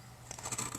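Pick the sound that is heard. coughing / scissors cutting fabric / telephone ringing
scissors cutting fabric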